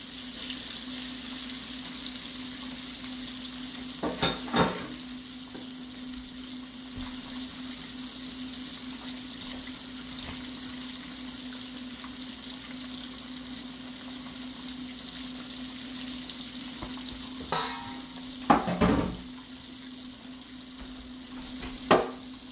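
Buttermilk-soaked chicken pieces fry in hot oil with a steady, fairly quiet sizzle throughout, broken by a few sharp clatters and bumps of pieces being turned or moved.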